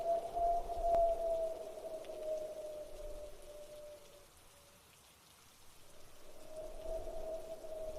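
Rain falling, a soft continuous hiss of droplets under a steady tonal hum that fades away midway and then returns, with no speech.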